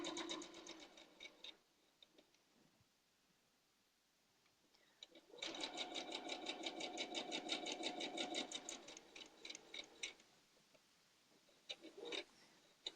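A sewing machine stitches quilt fabric with a scant quarter-inch seam in short bursts of rapid, even needle chatter, close and clear, with a long steady run in the middle and quiet pauses between.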